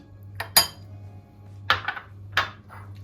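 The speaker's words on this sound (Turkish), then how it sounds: "Soğanı, rendelemiş olduğum soğanı boşaltıyorum" Grated onion is emptied into a bowl, bringing a few sharp clinks and taps of a utensil against the dish close up, spaced across a few seconds over a low hum.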